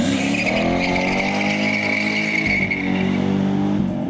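A Corvette Grand Sport 100 Years Special Edition pulls away, its engine a loud, close roar with a rising then steady tone, a faint tire squeal and no talking.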